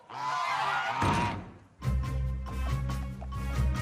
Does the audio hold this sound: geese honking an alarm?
yes